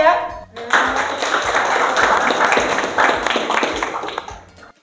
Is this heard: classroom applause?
yes